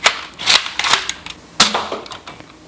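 A Ceda Model S Nerf dart blaster from Jet Blaster fires several times in quick succession, giving sharp, close pops with brief mechanical clacks between shots.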